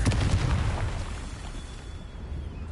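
A Confringo blasting spell in a Harry Potter video game bursts with a deep, loud explosion at the start, then rumbles and fades into a low, lingering roar.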